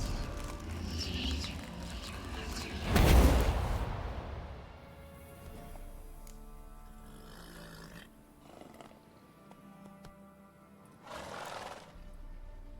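Horses neigh in The Witcher 3: Wild Hunt, a loud whinny-like burst rising near the start, then a quieter call toward the end over low game ambience.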